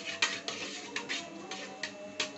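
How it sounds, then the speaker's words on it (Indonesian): A spoon stirs a yogurt mixture in a bowl, giving repeated light clinks and scrapes against the bowl at a regular rhythm, close and moderately quiet, with no talking. "ini kita aduk sampai merata ya, secara menyeluruh"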